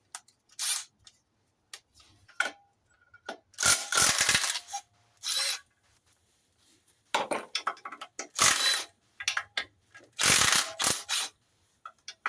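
A ratchet clicks in short rapid bursts as it works loose the clutch bolts on a 1970 MGB GT, close up, with quiet pauses between runs and no talking.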